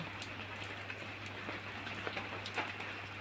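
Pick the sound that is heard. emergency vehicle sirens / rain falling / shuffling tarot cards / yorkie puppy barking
rain falling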